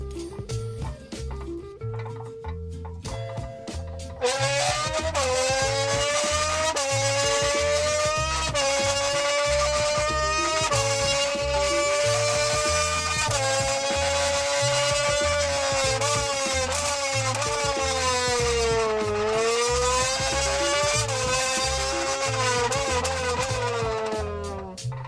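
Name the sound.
man imitating Formula 1 car engine with a Monster can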